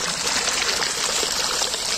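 Continuous trickling and gurgling of water running through a small underground channel that children dug in the ground, close and steady, with no talk.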